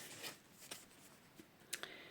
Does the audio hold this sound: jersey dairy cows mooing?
no